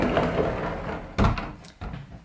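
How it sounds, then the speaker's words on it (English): A pocket door at the entrance to the toilet and shower of a Paris studio apartment slides open with a short rumbling knock, followed by a second softer bump a moment later, close by in a quiet room. "Both of these are behind a pocket door."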